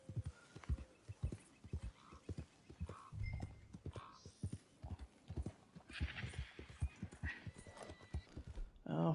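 Horse hooves clip-clop steadily at a walk in Red Dead Redemption II, a run of close, regular thuds with a brief whinny, while someone talks over them.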